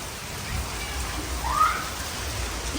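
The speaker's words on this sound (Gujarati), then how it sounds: "અને વરસાદ ચાલુ જ છે ધમધોકાટ" Heavy monsoon rain pours down over a flooded village, a dense, continuous hiss of falling water with no other sounds standing out.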